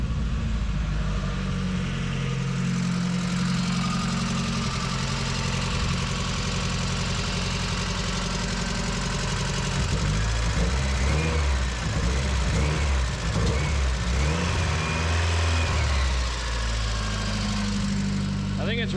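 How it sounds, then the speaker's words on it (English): Four-cylinder car engine with a bad misfire history idling loudly close up, a rapid mechanical lifter tick over a rough steady drone, with a shift in the running around midway. "I think it's running on all four with a very loud lifter tick."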